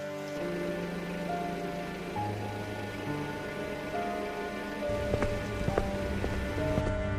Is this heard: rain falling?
yes